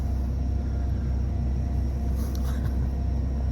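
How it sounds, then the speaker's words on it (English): A concrete truck's engine rumbles low and steady at a pour site, a dense continuous drone close by with a faint high whine and no breaks. "Got the truck stuck pulling in."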